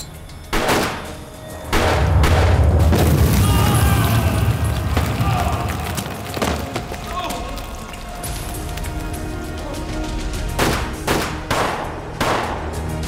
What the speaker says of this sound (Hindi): हम भी बम फेंक सकते हैं